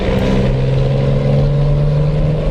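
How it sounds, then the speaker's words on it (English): A truck engine in Euro/American Truck Simulator revs loudly and steadily, its deep droning hum holding an even pitch throughout with no pauses. "Hopefully you can hear me over this engine, it's quite a loud engine noise"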